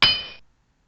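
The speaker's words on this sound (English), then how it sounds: "the morning scene was shattered into pieces or fractured into pieces with the noise of a hammer" A single sharp metallic strike with a bright ringing, glassy shatter that decays quickly into silence.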